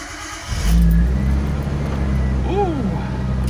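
A turbocharged L28 engine in a Nissan 280ZX turns over and settles into a loud, throaty idle, then revs briefly with a rising and falling whine.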